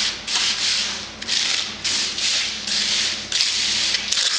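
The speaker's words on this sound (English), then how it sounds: "then we're going to screed it off with our wooden trowels" Wooden trowels screed wet mud with long, steady rasping scrapes, a loud continuous rubbing in repeated strokes with brief breaks between passes.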